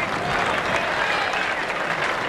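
Tennis crowd applauding at the 1981 US Open semifinal, a steady dense wash of clapping from a large stadium audience that fills the whole moment at even loudness.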